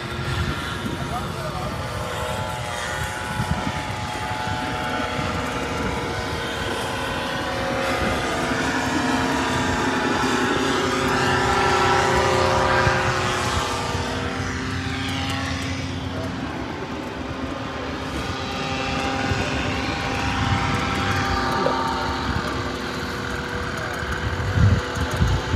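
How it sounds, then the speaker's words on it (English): The engine of an ultralight trike aircraft drones steadily and fairly loud throughout, its pitch swelling slightly midway, while people talk over it outdoors in the wind. "So DP is going to be taking his first trike flight"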